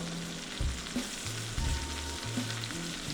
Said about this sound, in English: We're gonna take the ribeye, we're gonna put it in there. There we go. We're gonna get a nice sear.